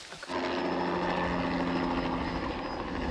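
Helicopter hovering or flying overhead during an African elephant wildlife rescue, a steady loud rotor and engine drone that starts abruptly and holds constant throughout, with no voices.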